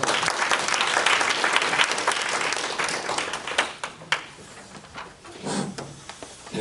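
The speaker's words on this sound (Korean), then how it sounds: "그러면 우리 조승재 의원님을 큰 박수로 맞아주시기 바랍니다." Audience at a municipal ordinance forum applauding to welcome a council member, dense clapping that fades and thins toward the end, leaving a few scattered claps and movement.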